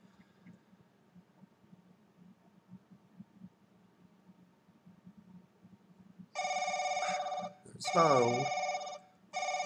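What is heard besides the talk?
telephone ringing in The Crooked Man video game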